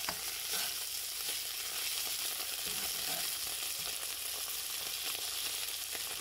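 Onion, green chili and garlic paste sauté in a hot pan after mustard seeds, giving a steady, dense sizzle with occasional crackles and faint stirring throughout, no voices.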